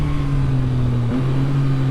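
Yamaha MT-09 motorcycle with semi-automatic Y-AMT gearbox, engine revving steadily and loud up close, with a brief shift in pitch midway and constant wind rush.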